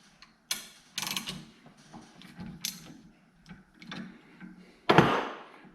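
Flaring tool tightened down on a brake line while making double and bubble flares, giving a series of close mechanical clicks, creaks and ratcheting scrapes in uneven bursts, with a louder grinding crunch near the end.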